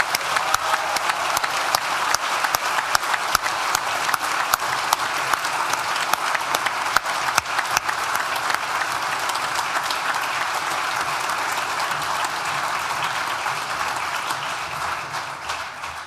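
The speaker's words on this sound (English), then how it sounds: "let's give them a huge" Sustained applause from a large graduation ceremony audience at a university, dense and steady throughout, tapering slightly near the end.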